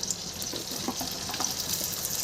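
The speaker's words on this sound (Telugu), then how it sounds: "ఇప్పుడు మొదటగా నూనె మరుగుతుంది కదండి జీలకర్ర వేసుకోవాలి జీలకర్ర ఉల్లిపాయలు వెల్లుల్లిపాయలు" Cumin, onions and garlic frying in hot oil for a ridge gourd curry, a close, steady hiss and crackle with small popping bursts and a faint stirring scrape.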